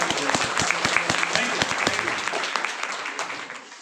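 An audience claps at a motivational business talk, a dense burst of applause with sharp individual claps standing out early, then thinning and fading toward the end.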